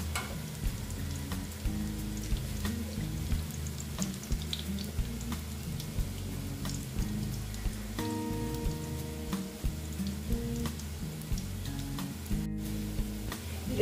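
Malabar spinach (pui shak) pakoras deep-frying in oil, a steady dense sizzle and bubbling that runs throughout at moderate level, alone without talk.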